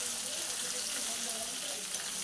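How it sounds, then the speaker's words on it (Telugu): Bitter gourds fry in hot oil in a pan and get stirred, a constant dense hiss and sizzle that holds steady throughout, loud and close. "మనం ఈ కాకరకాయలు ఇలా మొత్తం వేసేసుకొని కాస్త కలుపుకోవాలి."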